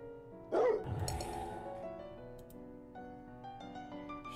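A dog barks in a video game, one sharp bark followed by a short yelping whine over steady game music, with no one speaking.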